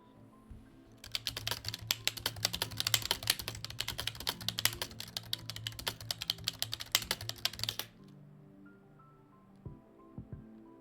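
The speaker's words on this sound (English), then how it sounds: "Sorry if you can hear me typing." Rapid, close clatter of typing on a computer keyboard keeps a steady burst of keystrokes for about seven seconds, then stops, leaving only quiet background hum and a couple of soft clicks.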